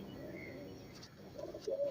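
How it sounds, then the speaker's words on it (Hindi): Chaudhry breed pigeons coo softly nearby, low rounded calls with a brief chirp, against quiet background noise. "ये चौधरी वाले कबूतर है।"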